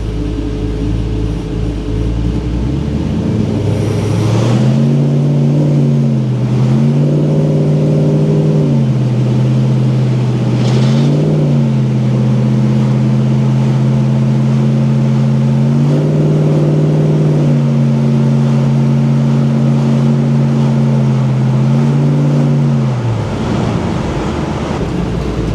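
A 1971 GTO pro touring car with a 525 HP LS3 V8 accelerates repeatedly, its engine note climbing through the gears in stepped surges, then easing back. The sound is loud and close with a steady rumble underneath, and no one speaks.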